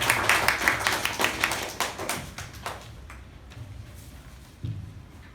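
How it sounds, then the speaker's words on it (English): Toastmasters meeting attendees clap in a fairly small room, distinct individual hand claps ringing out close and crisp, then thinning and fading into room hum after about three seconds. "So a huge round of applause for Toastmasters."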